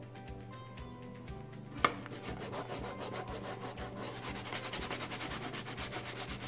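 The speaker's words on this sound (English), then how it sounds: "My fingernails are really soft, so using them as scraping tools is not working as well as it often does." Fingernails scrape and rub across an IOD transfer sheet laid on a painted wooden recipe box, giving a steady close-up scratchy friction with one sharp tap partway through and no talking.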